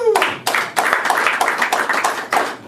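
Scattered clapping from a comedy club audience, a handful of hands producing uneven bursts of claps close by, with some voices and cheers mixed in.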